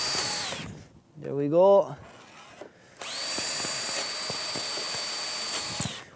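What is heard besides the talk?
power drill driving into wooden batten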